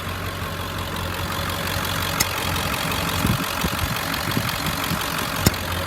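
A 2003 Ford F-550 XL utility truck's engine idles steadily at close range, a continuous low rumble with a few faint clicks and knocks over the top and no voices.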